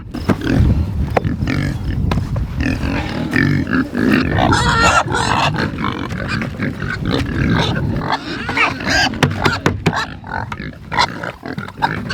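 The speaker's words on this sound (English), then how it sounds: "I'm gonna go get EMT straps and strap it to the inside while these pigs are eating." Pigs on a homestead grunt, snort and chomp loudly and continuously as they eat in their shelter, a dense, close chorus of overlapping grunts.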